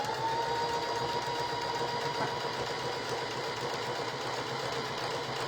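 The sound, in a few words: sewing machine stitching fabric for a barrel banner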